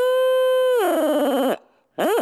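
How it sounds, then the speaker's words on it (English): A Knight Owl turkey locator call is blown close up in loud, tonal, deep, hollow owl hoots, first one long steady note bending into a wavering call, then a brief pause and another short sweeping hoot. "It's going to be a little deeper and a little more hollow sound than most of our owl hooters."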